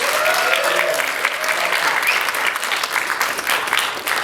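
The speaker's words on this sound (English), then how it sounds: "Let's get another round of applause for everyone." A theatre audience at a cabaret show gives the performers a loud, sustained round of applause, with thick, even clapping from many people lasting several seconds.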